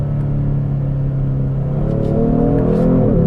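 A 2022 Genesis G70 with an 8-speed automatic accelerates hard, its engine note rising steadily in a loud, continuous growl before an upshift dips the pitch near the end.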